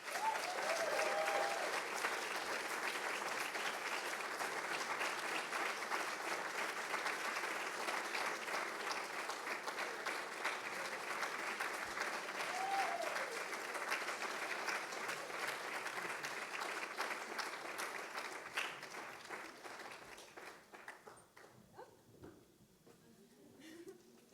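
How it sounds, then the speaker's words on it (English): Long, steady audience applause at a youth financial education working session fills the room, holding at an even level for around twenty seconds before thinning out and fading toward the end. "The applause lasted pretty long, right?"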